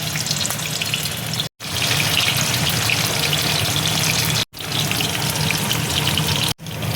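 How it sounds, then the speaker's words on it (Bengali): Paneer cubes frying in hot oil in a wok, a loud, steady close-up sizzle that runs throughout with two brief silent breaks, no talking. "এবার আমি পনিরটা দিয়ে দিচ্ছি"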